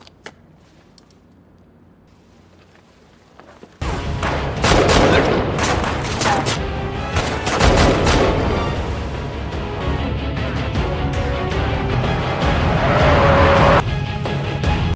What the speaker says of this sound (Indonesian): Takeru sendiri kembali terlibat baku tembak dengan para kroco yang masih ada di sana.